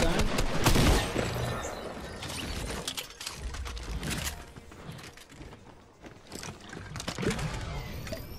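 Bursts of gunfire in the battle royale game Fortnite on the OG map, with sharp shots scattered through the stretch, clustered loudest near the start and again toward the end, some seeming distant.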